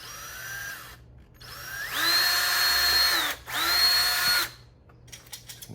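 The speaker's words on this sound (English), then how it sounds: "we're gonna drill a hole right here." A power drill bores a hole in a BMW E39 M5, whining up loudly in two long bursts separated by a short pause, after a brief lighter spin at the start, with faint clicks trailing at the end.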